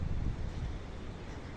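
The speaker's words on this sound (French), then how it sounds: "Il y a un vent, laisse tomber." Wind blows steadily through a garden with pear and apple trees, a low continuous rush with buffeting against the microphone and no other clear sounds.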